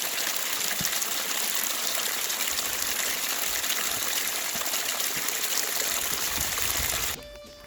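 Steady rushing water on a hiking trail while a bottle is refilled, a loud continuous gush that holds evenly, then drops off abruptly near the end.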